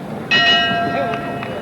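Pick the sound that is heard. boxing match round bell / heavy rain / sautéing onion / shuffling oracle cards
boxing match round bell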